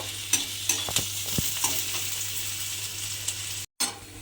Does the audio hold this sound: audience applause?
no